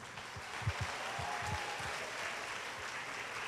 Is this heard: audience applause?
yes